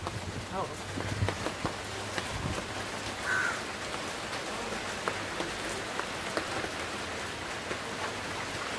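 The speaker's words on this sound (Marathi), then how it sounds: "बघा पाऊस पण आलाय." Steady rain pattering down in a continuous hiss, with faint background voices and an occasional distant bird call.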